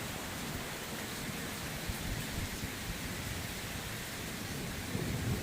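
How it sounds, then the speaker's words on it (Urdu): Torrential cloudburst rain at 2 am in Pothwar roars as a dense, steady wash, with deep thunder rumbling underneath throughout and no voices. "صرف آپ بارش کو آواز سنیں تو آپ کو آئیڈیا ہو جائے گا کہ کتنی اس میں دہشت ہے"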